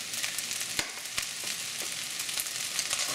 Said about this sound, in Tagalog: Hahaluin lang natin ito mabuti pa